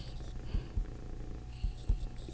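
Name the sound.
cat purring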